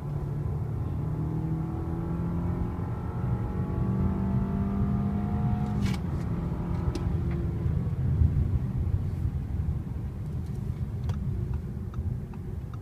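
A turbocharged four-cylinder 2014 Audi A6 pulls hard from 50 to 70 mph in sport mode, its engine note rising steadily under a constant road and wind roar with a few faint clicks.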